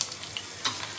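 Hot oil frying in a pan for gongura chutney, a steady close sizzle with faint stirring scrapes and one brighter crackle burst partway through, no voices.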